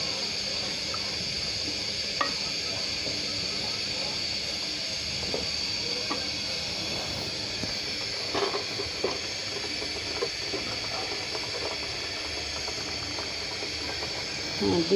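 Spice paste loosened with blended-onion water fried and stirred in a pan for mutton rezala, giving a steady close sizzle with scattered soft scrapes and taps from the spoon throughout.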